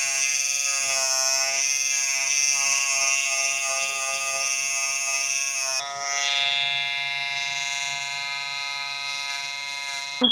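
Electric hair clippers tapering the sides and back of a pixie cut at home, a steady loud buzzing hum that runs continuously and shifts pitch partway through as the clipper moves against the hair.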